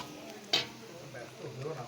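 Onion and Kashmiri chili powder stirred in a pan for a mutton and potato curry, a soft sizzle with one sharp scrape of the spoon and faint voice-like sounds underneath.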